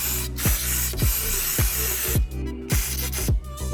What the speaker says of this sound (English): So to get the dirt out of the threads, you can just use some brake clean.